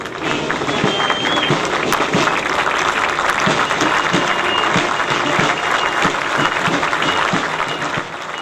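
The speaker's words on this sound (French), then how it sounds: "sous des tonnerres d'applaudissements" Thunderous applause from a large parade crowd greets the French Foreign Legion band marching by at a Bastille Day ceremony, a dense, loud, steady roar of clapping that holds throughout.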